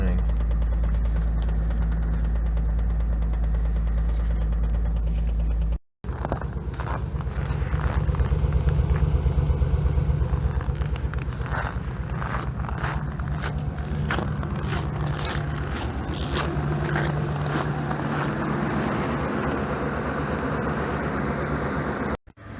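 A Jeep engine running after a cold start at -10°F, misfiring: a continuous rough idle drone with uneven pulses, a brief cutout near six seconds, then steady running through to the end.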